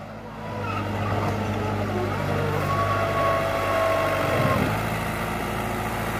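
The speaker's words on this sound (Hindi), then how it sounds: "वो ट्रैक्टर आ लिया" A New Holland 7500 tractor pulling an 8-foot desi plough out of a pit works its engine under load at close range, a steady droning rumble that rises in pitch midway, with a voice faintly under it.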